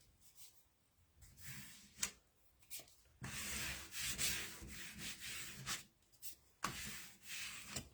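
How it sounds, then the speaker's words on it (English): Paper being burnished down by hand in a junk journal, with quiet rubbing strokes in short bursts, then a longer stretch of steady, scratchy friction close up, no voice. "Burnish this down."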